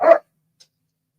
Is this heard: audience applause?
no